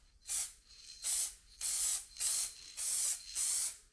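Spray gun laying a top coat of paint onto a Nissan Micra body, five or six steady hissing bursts with short pauses between them, close and with no talking.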